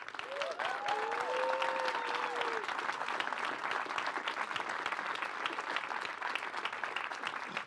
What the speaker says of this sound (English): Let's start by giving a big round of applause to Kassandra